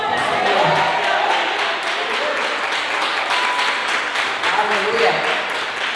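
A church congregation applauds in praise, a steady stream of clapping under continuous voices and exclamations from worshippers, dense and close throughout.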